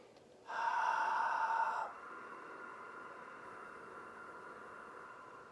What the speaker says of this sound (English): inhaling and exhaling using the victorious breath